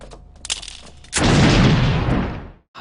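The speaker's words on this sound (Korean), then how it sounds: "한 발의 총성과 함께 쓰러지는 파드." A single loud gunshot from the anime Cowboy Bebop bursts out after a quieter passage and booms with a heavy, drawn-out rumble for over a second before cutting off.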